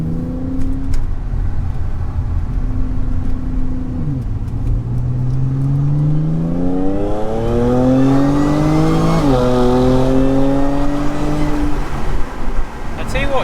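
Supercharged Audi S4 B8 with an open filter intake accelerating through manual gear changes on a dual carriageway, engine drone rising in pitch with supercharger whine, briefly dipping at each shift, steady and loud inside the cabin.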